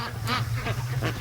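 Free-range ducks grazing near freshly filled feeders give three or so short, nasal quacks in quick succession, fairly close, over a steady low background hum.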